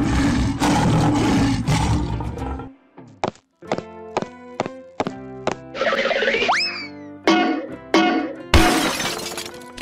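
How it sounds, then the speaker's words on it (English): A lion roars loudly at the start of a cartoonish animal transfiguration sequence. It is followed by a rapid string of bouncy boings, thunks and shattering effects, and a rising whistle-like sweep. "Lion."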